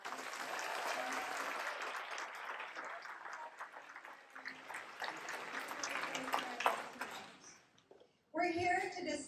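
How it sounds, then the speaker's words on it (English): Loud, sustained applause from a theater audience at a community forum on school district budget solutions, filling the room steadily for about eight seconds before fading, with a brief burst of other sound at the end. "Can we get a big round of applause?"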